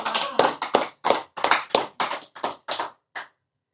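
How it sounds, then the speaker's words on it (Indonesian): A crowd claps in unison at a talk, with about eleven loud, distinct rhythmic claps that stop abruptly. "Tepuk tangan."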